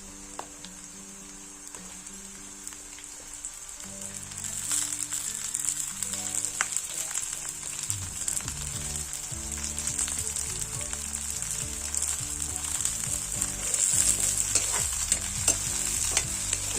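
Onion and capsicum fry in a pan with steady sizzling while a spoon stirs and scrapes through them, growing louder after the first few seconds; background music plays throughout, with no talking.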